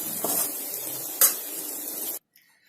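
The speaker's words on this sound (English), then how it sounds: "pour in the lemon juice and the garnish of coriander and give it one final mix" A spoon scrapes and stirs potato bhaji in a pan after the gas is switched off and lemon juice and coriander are added, a steady scraping rustle with one sharper clank before it stops abruptly.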